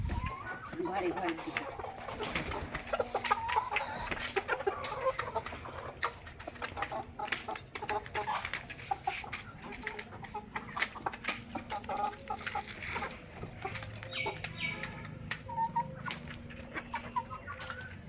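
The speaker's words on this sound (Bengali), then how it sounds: "এই দেখো আমার দেশি মরকগুলো" A flock of desi chickens clucks and murmurs steadily close by, with occasional wing flaps, while people talk over the birds the whole time.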